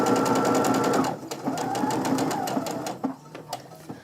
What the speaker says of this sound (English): sew along.